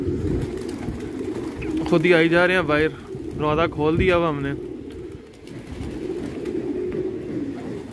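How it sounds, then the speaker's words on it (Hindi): Pigeons cooing on a rooftop just after being let out of their cage, a few rounds of soft rolling coos close by while someone talks over them. "ये देखें दोस्तों सारे ही बाहर निकाल दिए कबूतर"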